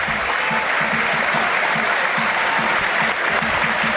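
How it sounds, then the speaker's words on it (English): Football crowd at a Wrexham versus Ipswich Town match applauding a substitute onto the field, a broad continuous wash of clapping from a large stadium audience, loud and sustained. "Warmly applauded"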